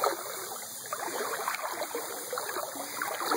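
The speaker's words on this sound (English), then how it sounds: "It's a strong current." Strong water current flowing steadily, a continuous broad rushing and gurgling with no pauses, fairly close and even in loudness throughout.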